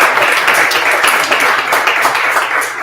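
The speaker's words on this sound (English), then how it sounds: "Give her a round of applause." An audience applauds a speaker at a startup founders event in Washington DC, with loud, dense, continuous clapping from start to finish.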